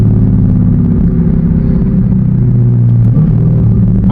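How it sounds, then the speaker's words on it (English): C8 Corvette fitted with high-flow catalytic converters, a loud, steady deep engine rumble heard from inside the car while downshifting, with the pitch stepping briefly mid-way and no talking. "Fucking downshifts."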